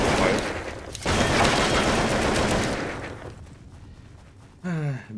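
Loud, dense burst of video-game gunfire from a gun in Zed Zone, rapid shots for about three seconds that cut off, then quieter noise and a short tonal sound near the end.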